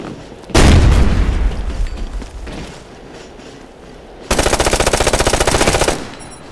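A loud frag grenade blast in the Ghost Recon Future Soldier multiplayer game is followed by scattered shots, then a sustained burst of rapid automatic gunfire close by.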